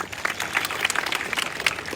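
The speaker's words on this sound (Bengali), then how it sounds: "আজকে আমরা কুলিয়ারচর থেকে যারা আসছেন তাদের জন্য একটা হাততালি আশা করতেছি।" Applause from a crowd at a football match in Chunarughat, Habiganj, greeting the Kuliarchar team, a dense, steady patter of many hands clapping for a couple of seconds, moderately loud.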